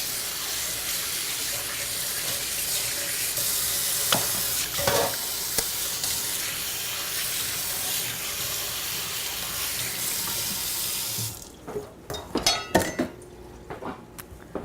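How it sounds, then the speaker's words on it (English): Hands are rinsed under a running kitchen tap. The water pours as a steady, close rush for about eleven seconds, then cuts off, followed by a few sharp clatters and knocks of items being handled. "Let's get these hands washed."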